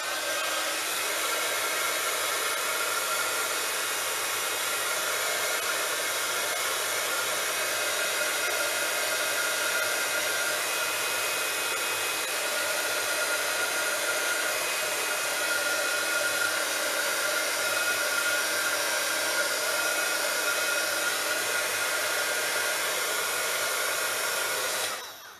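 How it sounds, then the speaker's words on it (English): A heat gun blows steadily for about twenty-five seconds while drying a decorated envelope, a constant close hiss and whirr that cuts off at the end, with no voices. "The heat gun."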